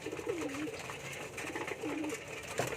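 Racing pigeons cooing in a loft: soft, repeated rolling coos, two or three phrases, heard faintly over a steady background hum without talking.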